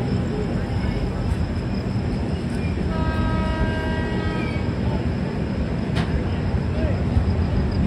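A Duronto Express train rolls at speed with a continuous loud rumble and rattle of the cars, and a steady horn tone sounds midway while people talk over it.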